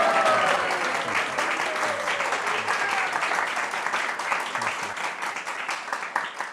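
An audience breaks into sustained, dense applause to welcome guests at a youth retreat, the clapping loud at first and thinning slightly over several seconds.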